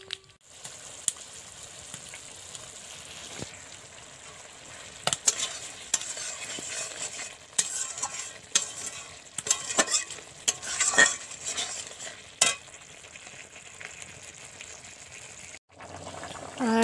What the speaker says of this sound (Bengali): এখানে দেখো আমার ডিমের ঝোলটা রান্না পুরো কমপ্লিট